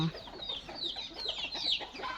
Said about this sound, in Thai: ไก่ เสียงไก่เต็มไปหมดเลยนะ